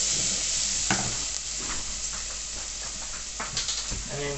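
Vegetables and spices sizzling in a hot pan for a winter chilli, a steady frying hiss with a few scrapes and clatters as the mixture is stirred, close and continuous with no talking.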